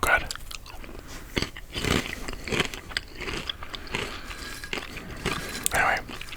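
Crunchy Hawkins Cheezies, a deep-fried corn snack, are bitten and chewed close to the microphone, with loud irregular crunches and crackles over several seconds. Soft whispered talk runs alongside the chewing.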